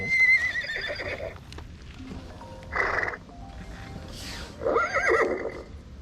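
Loud horse whinnies ring out nearby, three separate neighing calls spaced a couple of seconds apart, with faint background noise and a few scattered clicks between them.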